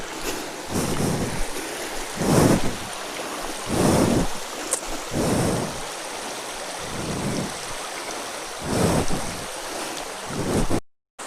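Rushing water at Rapur Waterfalls, a steady broadband roar with repeated low thumping gusts of wind buffeting the microphone, fairly loud and continuous, no voices.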